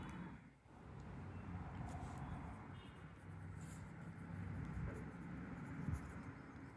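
Equations being written on a board during a class 10 maths lesson, faint scratchy strokes under a low background rumble.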